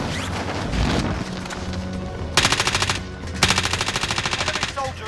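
Automatic rifle fire in Call of Duty: Modern Warfare multiplayer, with two sustained rapid bursts of rattling shots at mid distance over a busy background of game sounds and effects.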